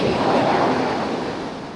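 Sea waves wash onto a beach in a steady, broad roar of surf with some wind rumble, loud and continuous throughout with no voices.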